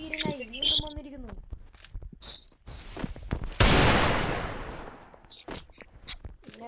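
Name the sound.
gunfire in the video game Free Fire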